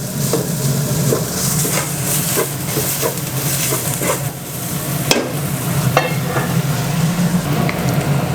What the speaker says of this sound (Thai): ผัดจนมันมีกลิ่นหอมเลยนะครับเพื่อนๆ